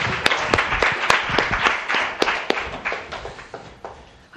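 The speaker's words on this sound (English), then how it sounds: "Big round of applause for Abie, Philbin, Bowman again." Audience applauding a comedian at a live comedy night, a thinning burst of claps with sharp individual hand strikes, fading out over a few seconds.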